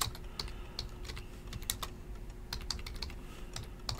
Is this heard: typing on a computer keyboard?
yes